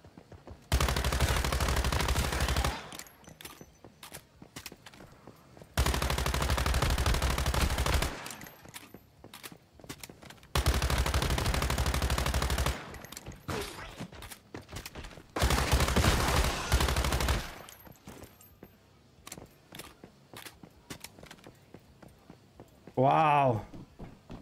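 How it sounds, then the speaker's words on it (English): Gunfire in the survival shooter Once Human, four separate bursts of sustained rapid shooting, each about two seconds long, broken by quieter gaps with scattered clicks and a voice near the end. "Who the fuck is shooting?"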